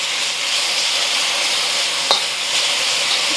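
Beef searing in a hot pan for Thai basil beef, a loud, continuous hissing sizzle with one brief sharp scrape of a utensil as it is stirred, close and alone.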